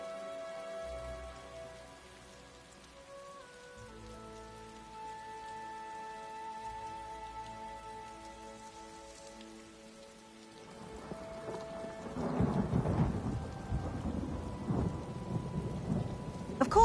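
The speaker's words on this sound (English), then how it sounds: "I need someone with whom to take a stroll in this lovely rain" Rain and thunder in the video game Elder Scrolls Online fade in over soft sustained music, then swell into a loud, steady downpour with rumbling thunder.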